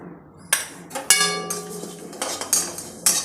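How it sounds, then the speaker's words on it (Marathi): Cumin seeds are dry-roasted in a pan for chakli flour, heard as a series of sharp metallic clinks and scrapes of a utensil against the pan, irregular and close, with quieter rustling between strikes. "आता यामध्ये जिरे भाजून घेणार आहे।"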